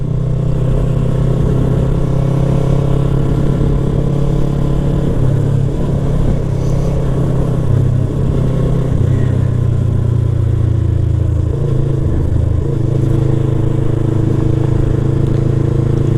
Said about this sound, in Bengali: আর আমি হালকা হালকা রাইড করে যাচ্ছি আর কি।